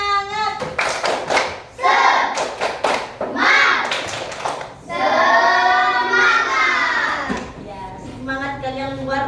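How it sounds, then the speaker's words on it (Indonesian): A classroom of children doing a rhythmic group spirit clap, bursts of patterned hand claps and chanting voices in unison, loud and close, with a teacher's voice between bursts. "tepuk semangat"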